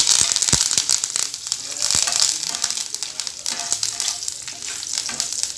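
Curry leaves hit hot oil while tempering mint chutney, setting off a loud, continuous crackling sizzle peppered with sharp spitting pops close by.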